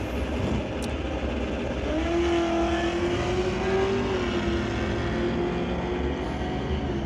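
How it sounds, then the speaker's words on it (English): A 1999 Camaro drag race car at Renegade Raceway roars steadily for about seven seconds, a loud sustained engine note rising in pitch midway, with no talk. "It's racing the 99 Camaro."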